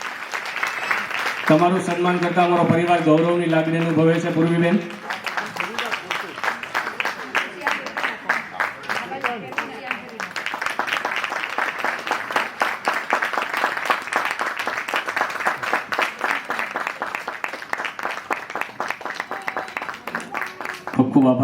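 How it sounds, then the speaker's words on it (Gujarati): Someone speaks over a held musical tone, then sustained, steady audience clapping fills a women's honor award ceremony as Purviben Shukla is honored, continuing for many seconds under occasional talk. "આપણે ખૂબ તાળીઓના ગડગડાટથી પૂર્વીબેન શુક્લનું સન્માન કરશું"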